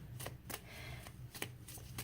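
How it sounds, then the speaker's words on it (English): A deck of oracle cards being shuffled, a few quick riffling bursts close by in a quiet room, with no talking. "I'm gonna just pull just a couple of oracle cards, see what comes up"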